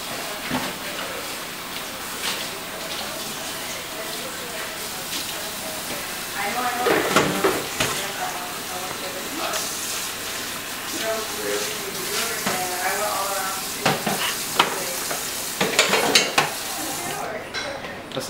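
Beans with sazon seasoning stirred and sizzling in a frying pan on a home stove, a soft continuous fry with scraping stir strokes and occasional clatter, close by, while people talk intermittently over it.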